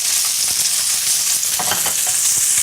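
Atlantic salmon frying skin-side down in a hot pan on fairly high heat, giving a loud, close, continuous sizzle with faint crackles and a few scraping stirs.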